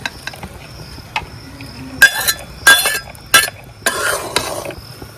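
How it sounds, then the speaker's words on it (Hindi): Pieces of fried eggplant go into a cooking pan with a few sharp metallic clinks and clatters, spaced out over a few seconds, close and fairly loud with no talking. "तो इस टाइम पर अब हम डालने जा रहे हैं बैंगन फ्राई किया हुआ।"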